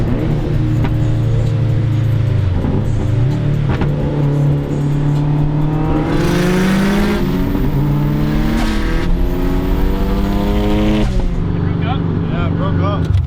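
Mazda Miata driving on the road, heard from inside with a steady engine drone that rises in pitch as the car accelerates, then eases off, while people talk over it.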